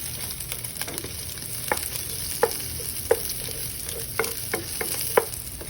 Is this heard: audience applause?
no